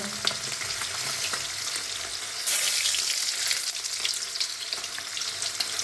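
Jackfruit frying in oil in a home kitchen, a steady close sizzle with occasional stirring scrapes and a brief louder surge of hissing partway through, with no voices.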